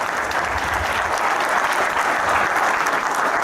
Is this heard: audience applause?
yes